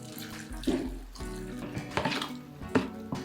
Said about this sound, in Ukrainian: заливаю окропом